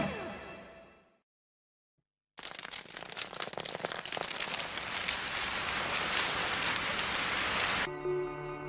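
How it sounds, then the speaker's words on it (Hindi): Steady hiss of rain pouring down, loud and continuous, following a brief silence after a fading musical tone. "लीजिए, बारिश शुरू हो गई।"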